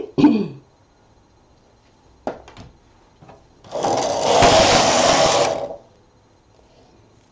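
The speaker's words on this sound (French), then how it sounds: "On va retirer l'ouvrage de la machine." Knitted work is pulled off a domestic knitting machine, giving a close clack at the start, a few sharp clicks, then a sustained loud metallic rasping slide of the carriage or needles lasting about two seconds.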